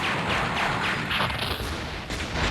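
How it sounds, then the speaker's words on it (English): Dense, continuous rumbling blasts and crackling booms from Mobile Suit Gundam Side Story 1 on Sega Saturn, steady and loud with no pauses, with a sharper burst near the end. "the explosion effects are very nice."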